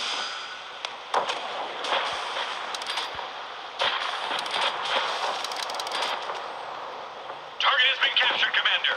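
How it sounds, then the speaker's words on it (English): Missile launch and explosion in a warship video game featuring the Belknap cruiser: sharp bursts and booms scattered over a dense, hissy battle bed, with a loud crackling blast near the end. "Missile launched. Enemy destroyed."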